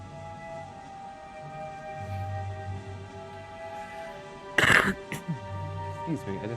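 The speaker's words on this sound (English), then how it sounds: "that harsh tone of an English cough" A man gives a sudden harsh cough and throat clearing close to the microphone, a short loud burst with a rasping tail, over faint background hum and game sounds.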